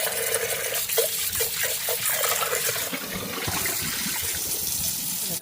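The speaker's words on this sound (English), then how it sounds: "Fill the pot with water," Tap water pouring into a cooking pot for boiling beans, a continuous gushing fill that deepens slightly as the pot fills, steady and close with no speech.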